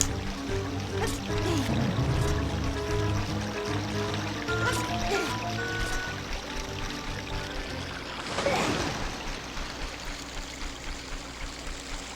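A waterfall on Zora River in Zelda: Ocarina of Time gives a steady rushing wash of water for the whole stretch, loud and continuous, with game music layered over it.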